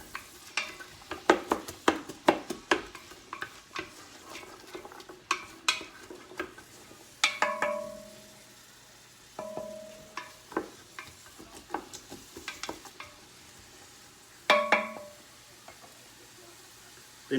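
A wooden spoon stirs and scrapes onions in a soup pot, giving intermittent soft knocks and scrapes against the pot over a quiet background sizzle.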